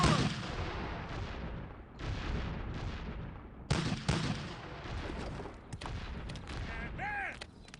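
Volleys of massed musket and cannon fire in the Gettysburg video game, dense crackling bursts rolling one after another with booming shots near the middle and a sharp whistling sound near the end, no talk.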